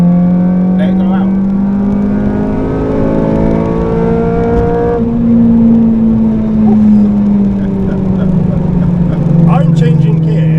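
Honda Civic Type R FN2 with a K24 engine accelerating hard on the road, a loud rising engine note climbing through the revs, dropping briefly at a gear change near the middle, then climbing again through the next gear.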